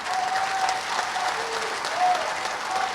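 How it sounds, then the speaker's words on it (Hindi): Crowd applause at a public political event in Delhi, dense sustained clapping from many hands, moderately loud and steady for a few seconds. "जोरदार ताली बजनी चाहिए,"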